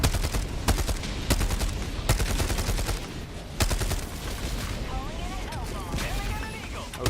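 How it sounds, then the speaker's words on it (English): Ships' bombardment barrage in a war video game: heavy repeated explosions and gunfire pound in a steady walking rhythm, loud and dense, with a player speaking over the shelling. "Requesting air support. Our ships are bombarding this place."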